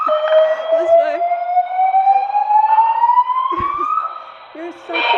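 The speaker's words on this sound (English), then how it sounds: "The fire alarm has been activated." A hotel fire alarm sounding loudly up close, a steady electronic tone slowly rising in pitch, with agitated voices breaking in over it.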